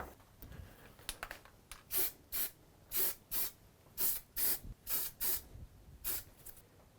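Spray can applying primer to lawn mower parts during a restoration, in about a dozen short hissing bursts of roughly a third of a second each, some in quick pairs, with light handling rubs between them.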